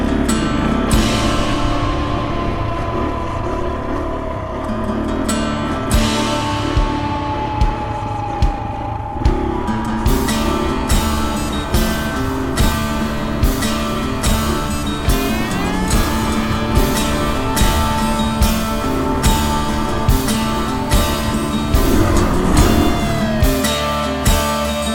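A KTM dirt bike on a single-track trail revs and bogs repeatedly, its engine close and loud with choppy throttle bursts and rising and falling pitch throughout.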